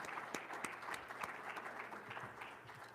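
Faint, distant audience applause at a veterans' community forum in Tempe, given for the sponsors and supporters. Scattered sharper claps stand out above a soft, continuous patter.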